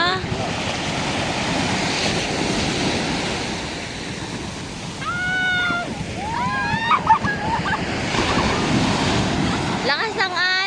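Strong sea waves break and roar continuously along the shore, a loud, close, steady surge of surf with wind buffeting the microphone; people shout and talk briefly over it.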